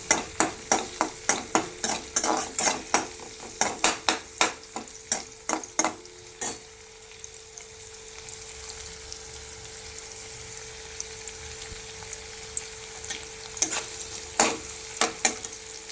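Potatoes frying in a pan are stirred with a utensil, giving a run of sharp, rhythmic scrapes over a steady sizzle; the stirring pauses midway, leaving only the soft frying, then resumes with a few more scrapes.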